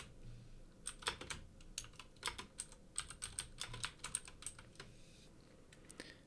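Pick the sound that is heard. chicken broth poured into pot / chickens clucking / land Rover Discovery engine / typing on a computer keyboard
typing on a computer keyboard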